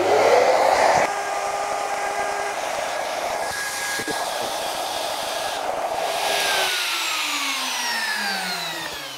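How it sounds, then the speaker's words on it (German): A vacuum cleaner runs as dust extraction during CNC milling for a DIY vehicle conversion, giving a loud, continuous whooshing whine that falls in pitch as the motor winds down near the end. "Staubsauger an."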